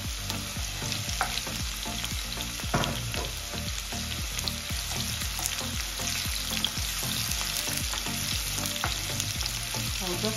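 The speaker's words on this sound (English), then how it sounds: "I'm going to be adding some sunflower oil. I'm going to fry the onions." Onions frying in sunflower oil give a dense, constant sizzle and crackle, with regular stirring strokes scraping through the pan, close and steady with no talking.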